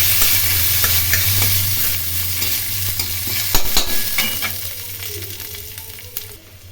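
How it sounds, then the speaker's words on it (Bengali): Dry red chillies, garlic and black cumin fry in hot oil in a wok, giving a close, bright sizzle with scattered clinks of stirring that gradually softens toward the end. "কড়াইয়ে তেল গরম করে শুকনো লঙ্কা দিয়ে দিলাম, রসুন দিয়ে দিলাম ও কালো জিরে দিয়ে দিলাম।"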